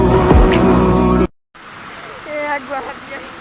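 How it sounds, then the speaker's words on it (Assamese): Loud, steady rushing of heavy rain in Nagaon, Assam fills the clip, with a voice singing at the start and a person speaking over the downpour afterward. "ইমান বৰষুণ যোৰাপাটত, কেনেকুৱা আন্ধাৰ হৈ গ'ল"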